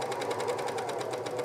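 Sewing machine hemming knit fabric runs in a steady, fast, rhythmic chatter of stitches, close and unbroken for a brief stretch.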